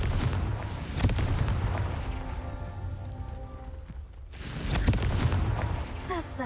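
A Confringo spell explodes in the Hogwarts Legacy video game, giving heavy, booming blasts with rumbling tails over a dense, continuous game soundscape.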